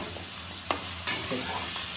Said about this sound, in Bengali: এর জন্য খাসির মাংস সবসময় দিয়ে তেলে ভেজে নিই